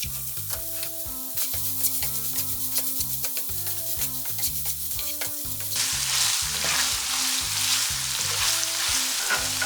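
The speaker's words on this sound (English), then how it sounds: "Use a rigid spatula to break up the pork as it cooks." Ground pork frying in a hot pan while a rigid spatula breaks it up, giving a steady loud sizzle punctuated by rhythmic scraping and tapping strokes, with the sizzle swelling brighter partway through.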